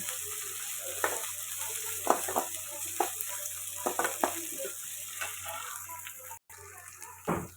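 Onions with ginger-garlic paste fry in a pan, a low hissing sizzle broken by repeated sharp scrapes and taps of a spatula stirring the mixture, with a brief dropout near the end.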